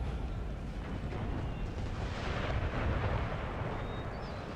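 Artillery fire in the Napoleon Total War video game, a dense continuous rumble of distant cannon booms and battlefield roar holding steady throughout, with no talk.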